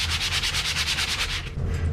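Rhythmic back-and-forth sanding of wood filler made from glue and sanding dust on a grand piano leg, about a dozen even rasping strokes close up, then a looser scrape near the end.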